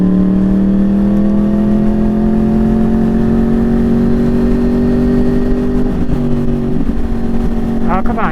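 Yamaha R1 motorcycle with crossplane engine and quad exhaust, idling and revving steadily with a loud, close, sustained rumble that shifts pitch slightly near the end.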